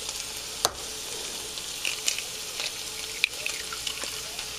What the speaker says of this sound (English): so we're about to crack our eggs in there.